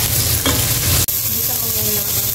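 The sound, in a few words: sautéing ingredients in a pan for sinigang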